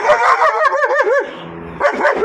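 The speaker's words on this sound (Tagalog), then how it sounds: "galit yung aso dahil binibidyoan ko daw siya" A dog barks and yips in an agitated burst, close by, with a couple of whining, wavering barks in the middle and a final short bark.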